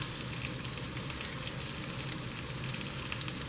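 Salmon and shrimp frying in garlic butter in a pan, a steady close sizzle running throughout with faint scraping as pieces are flipped, no voices.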